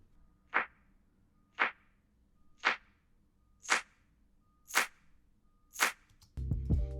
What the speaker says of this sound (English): I really like the pre-shifted claps because they're not too clicky like most EDM claps, but they kind of add like a whoosh going into each clap